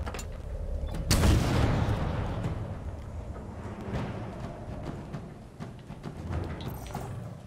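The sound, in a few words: bazooka fire in the video game Halo Infinite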